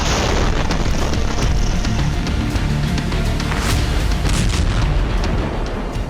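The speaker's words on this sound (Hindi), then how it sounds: "ये जोरदार धमाका यूक्रेन की आर्मी के हमले से हुआ" A loud, sustained roaring blast from a Russian tank exploding after an anti-tank missile strike, broadband and rumbling, with crackling bursts throughout and no speech.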